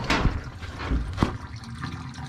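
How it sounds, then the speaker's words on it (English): Water draining out of a blocked double laundry tub, a broad gurgling, splashing wash with intermittent louder glugs as it sucks down, close by and heard alone. "Water's draining out right now."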